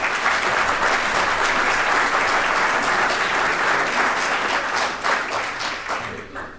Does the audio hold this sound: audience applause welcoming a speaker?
yes